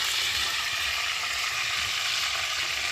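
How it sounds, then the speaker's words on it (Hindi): Fish frying over a high flame in a village kitchen, a continuous loud sizzle of hot oil, steady and close with no talk. "मच्छी फ्राई कर रही है, आग फुल पका के"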